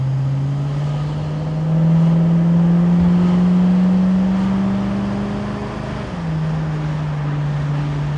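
A 1968 Ford Mustang convertible with a 289 V8 pulls up to speed, its steady engine drone rising in pitch over several seconds and dipping at a gearshift before climbing again, with wind rush in the background.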